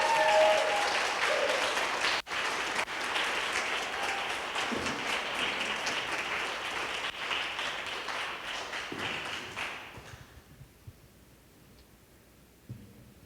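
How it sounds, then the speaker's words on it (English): Congregation giving a wild round of applause at a Sunday church service, dense sustained clapping with scattered cheers that continues for about ten seconds, then fades out into near silence. "Give them a wild round of applause"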